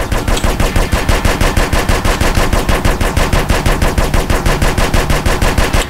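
Loud, continuous automatic gunfire rattles in GTA San Andreas, a steady rapid-fire stream of evenly spaced shots held up close for several seconds with no talking.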